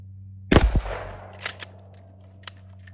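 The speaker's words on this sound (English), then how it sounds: "So let's go ahead and shoot this pumpkin" A shotgun loaded with small Aguila mini shells of double-aught buckshot fires once at a pumpkin, giving a loud close blast with a decaying tail, followed by a few faint metallic clicks and clacks from the action.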